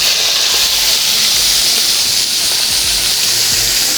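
Jumbo colossal shrimp sizzling in Cajun brown butter in a pan, a loud, steady, close hiss with no break and faint low clatter underneath.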